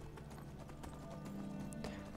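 Horse hooves clip-clop at a steady trotting rhythm in Skyrim Special Edition, close and fairly soft over quiet game ambience.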